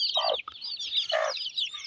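Gurk hens brooding and raising their chicks together give a few close, clear clucks, with the high, continuous peeping of the chicks running throughout.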